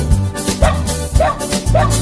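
A dog gives three spaced barks with a rising, howl-like whine, close and fairly loud against a noisy indoor background.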